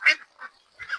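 Ducks on a farm flock of about 250 birds quack three times in quick succession, close and fairly loud, around feeding time with grain feed.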